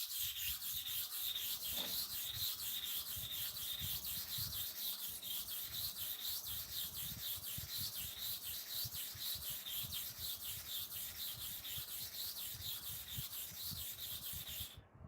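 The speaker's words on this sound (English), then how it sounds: "How to finish the sharpening, I'm going to show you now." Steady rhythmic rubbing strokes of a barber clipper blade being sharpened, a continuous gritty rasp repeated many times at an even pace, close and consistent throughout with no talking.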